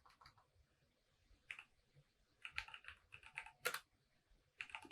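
Keys on a computer keyboard are tapped in short, uneven bursts of close, crisp clicks, with a few louder strokes and quiet gaps in between and no talk.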